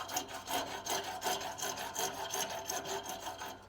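A hacksaw cuts through a brass part for a cannon build, rhythmic back-and-forth rasping strokes, close and steady, about seven strokes in quick succession.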